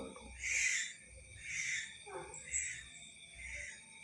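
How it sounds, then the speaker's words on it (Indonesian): Crow cawing in the cold pre-dawn hours, a series of about four harsh, moderately loud calls spaced roughly a second apart, with faint background noise. "Manuk apa guys, kok manuk gagak."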